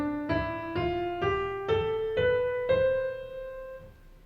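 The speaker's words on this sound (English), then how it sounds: "It has a set of white notes, which sound like this." Six single piano notes struck one after another at an even, moderate pace, each rising slightly in pitch and ringing into the next, closely recorded with no voices.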